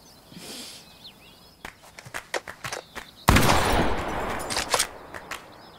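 Gunshots ring out in the video game The Quarry as bottles are shot, a series of sharp separate cracks followed by a loud sustained burst of noise, with faint ambient sound beforehand.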